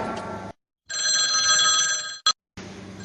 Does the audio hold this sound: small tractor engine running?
no